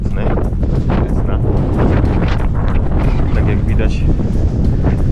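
Strong gusting wind buffets the microphone at a parking area at the foot of Mount Etna in Sicily, a loud, continuous roar, with someone speaking briefly over it.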